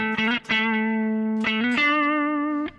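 Electric guitar with distortion playing a short pentatonic solo lick, a few sustained notes joined by hammer-ons and slides, each ringing clearly, loud and close with no talk.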